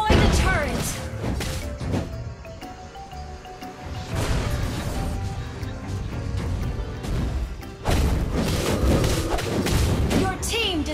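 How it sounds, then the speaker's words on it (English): A turret being destroyed in the mobile battle game Mobile Legends, heavy thuds and crashing impacts under steady battle clamor, with a loud crash near the end and announcer voices speaking over it. "You destroy the turret!"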